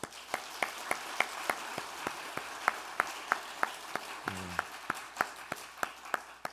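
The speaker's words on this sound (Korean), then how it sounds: "박수 칠 때는요, 기분 좋게 화끈하게 한번 박수 쳐줘야 합니다." A church congregation claps during a Sunday service in a steady, rhythmic beat of sharp, evenly spaced claps, with a brief voice briefly cutting in midway.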